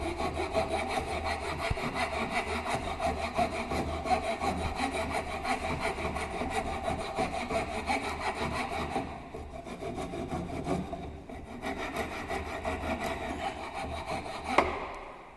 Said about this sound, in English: this is nothing but Woodrush file, and again we can do the filing operation